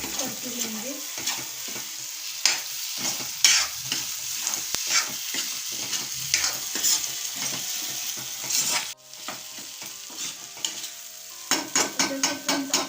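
Egg chutney being mixed and fried in a pan, a continuous close sizzle broken by repeated scraping stirs, with a brief pause before the frying and stirring resume.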